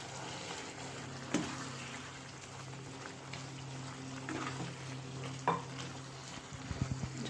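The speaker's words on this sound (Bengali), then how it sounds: "এবারে ভাজা পটলটা দিয়ে দিচ্ছি।" Fried pointed gourd is added to a simmering potato and spice curry and stirred in the pan, giving a low sizzle with a few sharp spoon scrapes and clatters near the end.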